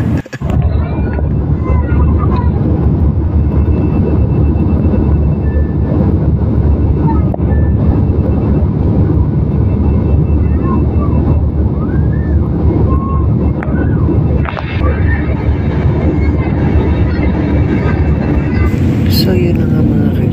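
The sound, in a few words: airplane cabin noise as the plane lands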